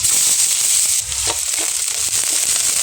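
Garlic and onion sauté in a hot pan, giving a constant loud, close sizzle with brief crackles and stirring scrapes throughout.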